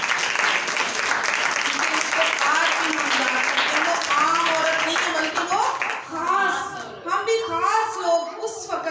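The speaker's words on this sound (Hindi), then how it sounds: "उस औरत के लिए हम जोरदार ताली बजाएंगे।" Congregation at a church service clapping together in a steady wash of applause, with a few voices calling out beneath it and the clapping thinning toward the end.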